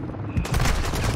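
Rapid submachine-gun fire in Call of Duty: Modern Warfare II, likely from a Lachmann Sub (MP5), bursts out loud and close as a quick volley of overlapping shots.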